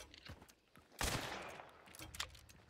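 Gunfire rings out in the video game Hunt: Showdown: a few faint scattered shots, then one loud, dense burst of fire that trails off into quieter reports.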